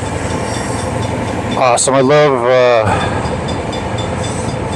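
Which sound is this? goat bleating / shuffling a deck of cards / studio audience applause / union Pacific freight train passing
union Pacific freight train passing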